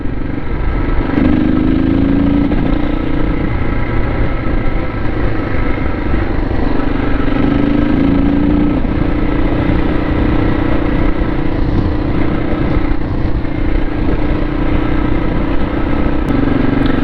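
A 2002 KTM 640 enduro motorcycle rides along, its engine drone loud and continuous with wind rush, the pitch rising and settling a few times as it accelerates.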